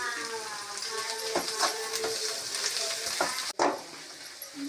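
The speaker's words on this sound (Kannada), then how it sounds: "ಈಗ ತರಕಾರಿ ಎಲ್ಲ ಬೆಂದಾಗಿದೆ. ಈಗ ನಾನು ಪುಡಿಗಳನ್ನೆಲ್ಲ ಹಾಕ್ತಾಯಿದ್ದೀನಿ." Spice powders added to cooked vegetables in a pan for pasta, sizzling steadily while being stirred, with repeated scraping strokes and a sharp knock near the end, heard close and fairly quiet.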